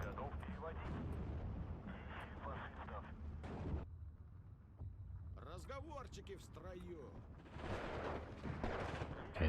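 Battle din from the World War II strategy game Steel Division 2, with steady gunfire, explosions and artillery through the whole stretch and bursts that fit machine gun fire. Voices talk intermittently over the shooting.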